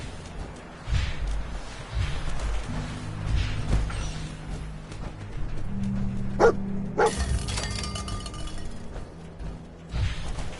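A dog companion in the Fallout 4 video game barks a few times over game ambience, with some metallic clinks and a steady low background hum.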